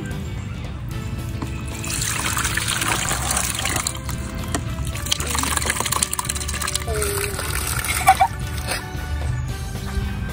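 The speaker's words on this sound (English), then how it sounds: "This is how you drain the water." Water trickling and pouring out of a BENNOL kids sand and water table as it drains, a steady close liquid flow with splashy bursts, and voices talking over it.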